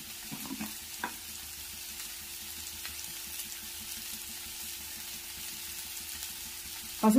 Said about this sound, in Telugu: టమోటా, ఆనియన్, పచ్చిమిర్చి, స్వీట్ కార్న్ అంతా కొద్దిసేపు ఫ్రై చేసుకోవాలి.